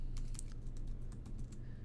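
An answer is typed quickly on a computer keyboard, with a brisk run of close, crisp key clicks over a low steady hum.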